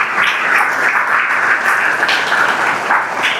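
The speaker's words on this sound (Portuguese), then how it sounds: "aplauda o Senhor Jesus" Congregation clapping in a church service, a steady dense wash of many hands filling the room, loud and continuous with no speech over it.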